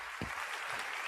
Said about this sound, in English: They're clapping.